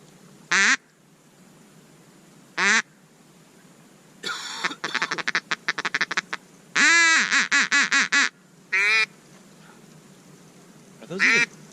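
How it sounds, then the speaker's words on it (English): Loud, close duck quacks during a duck hunt ring out in short bursts and rapid series, with quiet gaps between calls. "These are all ducks, dude."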